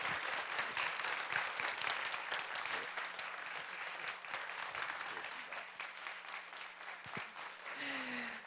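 Audience clapping steadily throughout after a film director's talk on the meaning of life through death at a Korean lecture concert, a dense sustained round of applause in a hall, fading slightly near the end.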